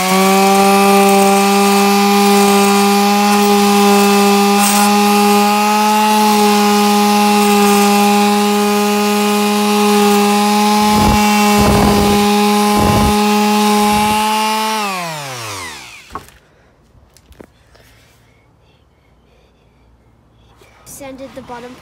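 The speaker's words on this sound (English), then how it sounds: "I'm actually gonna use this sanding machine and kind of sand this off" A power sander sanding wood for a toy plane whines loudly and steadily with a strong harmonic buzz, then winds down to a stop, leaving faint clatter and quiet handling noises.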